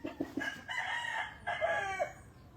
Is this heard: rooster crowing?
yes